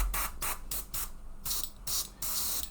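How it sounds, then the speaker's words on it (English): A Fengda starter-kit airbrush sprays in short hissing bursts, about seven pulses of varying length, close and steady with brief pauses between them. "And it's spraying, as you guys can see."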